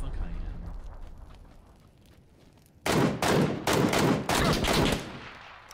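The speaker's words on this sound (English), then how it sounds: "This guy's throwing every nade he has." Grenade blasts and gunfire in the video game PUBG arrive as a sudden run of loud, harsh bursts after a quieter stretch with faint sounds, several explosive hits in quick succession.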